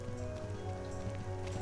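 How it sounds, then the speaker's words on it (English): Rain in the fantasy video game Skyrim, a steady soft patter at low level with a faint continuous hum and no one speaking. "And, of course, now it's raining again."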